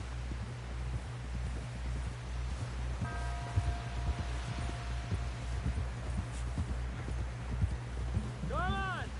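Steady clip-clop of horse hooves at a fast pace in Red Dead Redemption 2, with a brief whinny near the end and a low rumble underneath.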